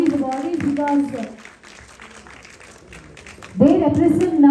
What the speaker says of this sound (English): can you all give a round of applause for all these awardees